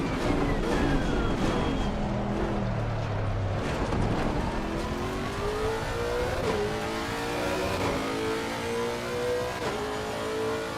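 A race car in a sim racing game revs hard through a corner, downshifting, then accelerating with rising engine pitch through several upshifts. The engine stays loud and close, with no speech.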